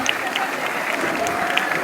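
Students applauding at a coaching institute celebration in Nellore, a brief burst of steady, dense clapping from a crowd with some chatter mixed in.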